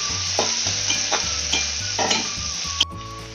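Chopped tomato and capsicum fry in a pan for a Bengali-style chicken paratha, with a steady sizzle under regular spatula stirring strokes about twice a second and a sharp scrape near the end.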